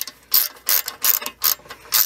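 Ratchet tightening transmission pan bolts on a Jeep AW4, with five quick bursts of close, crisp clicking separated by short pauses, alone without voices.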